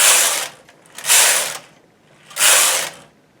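A knitting machine carriage is pushed across the bed knitting rows of an inside hem, giving three loud, bright mechanical swishing rasps, each about half a second long, separated by short quiet gaps.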